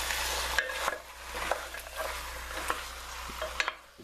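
Chicken sizzles loudly in a pan, with a steady frying hiss broken by occasional utensil clinks and scrapes as it is stirred, close up and alone.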